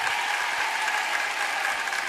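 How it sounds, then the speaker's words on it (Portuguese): Steady, dense applause from a TV show audience cheering a young Paraguayan boy singer, a continuous wash of clapping that holds at an even, fairly loud level throughout, with no voices. "palmas pra ele, um poliglota"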